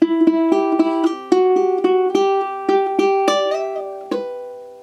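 A plucked ukulele picks out a gentle melody note by note, steady rhythm, bright and close, with no voices.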